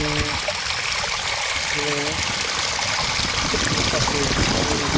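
Irrigation water from a homemade farm setup runs and spreads across field soil, a steady trickling, streaming wash that holds close and continuous throughout, with faint voices partly beneath it.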